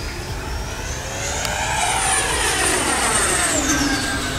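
An FMS Hawk 80mm electric ducted-fan RC jet passes overhead, its steady whining roar rising and falling in pitch as it flips and wobbles through the sky, loud and continuous with no talking.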